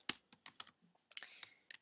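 Typing on a computer keyboard: a quick, irregular run of sharp key clicks in two bursts with a short pause between, close and fairly quiet, with no voices.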